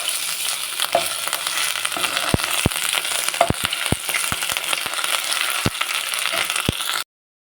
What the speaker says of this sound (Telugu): అల్లం వెల్లుల్లి పేస్టు ఇట్లా మనం దోరలుగా వేపుకోవాలి